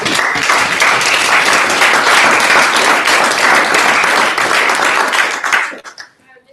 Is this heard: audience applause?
yes